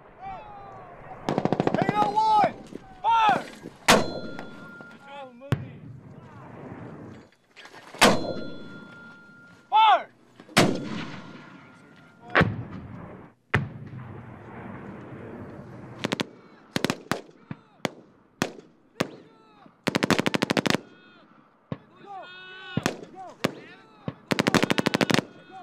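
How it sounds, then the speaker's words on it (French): Military live-fire exercise with real rounds while troops take a hill: bursts of machine-gun fire and single heavy booms, some near and loud, others farther off, with shouted voices between the volleys. "Les tirs se font à balles réelles."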